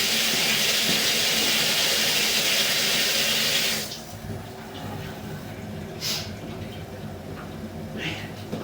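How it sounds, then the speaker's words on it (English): Water rushes loudly through a pipe line in a steady hiss for about four seconds, then cuts off, leaving a low residual gurgle and drip with a few faint knocks. "As far as there's so much water running now, I'm going to go ahead and turn it off."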